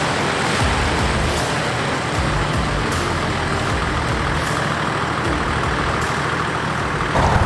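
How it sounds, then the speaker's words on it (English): A Toyota 80 Series 4WD rolls onto a weighbridge, its engine a steady, loud rumble with broadband road and tyre noise throughout, close to the listener with a few faint clicks and knocks. "we're gonna drive on the weigh bridge now"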